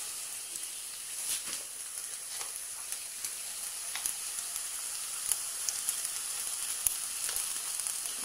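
Onions frying in a pan with a little salt for dum aloo give off a continuous bright sizzle with scattered small pops and crackles, close and even throughout.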